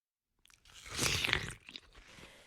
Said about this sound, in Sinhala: හැම වෙලේම මොනවා හරි කන එකමයි සුමුදු කලේ